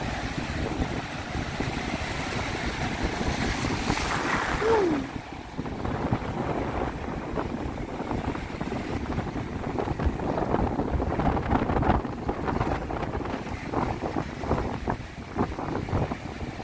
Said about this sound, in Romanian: Marea foarte, foarte agitată.